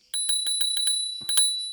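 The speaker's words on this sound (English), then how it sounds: "The mechanical bell is included." Mechanical bicycle bell on a Hitway BK6S foldable electric bike, rung in a quick series of about six bright metallic dings, then a pause and two more, each ringing out loud and close.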